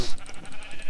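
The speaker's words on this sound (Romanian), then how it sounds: "O să aveți două oi!" Blocky game-style sheep bleats from Minecraft, a few short wavering calls in quick succession over a faint rustle of game activity, with no speech.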